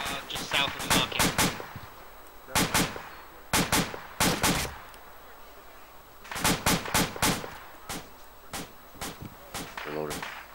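Sharp gunfire bursts and heavy rocket-propelled grenade blasts during a military sweep near a market in Shukurkulay, loud repeated cracks in clusters with ragged echoing tails, a voice briefly heard among them.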